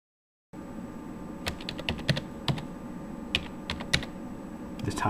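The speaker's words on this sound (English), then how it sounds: "Just type in DiskPart and press enter." Someone types a command on a computer keyboard, a quiet run of close, light key clicks in an uneven rhythm after a moment of silence, with a faint steady room hum and no talking.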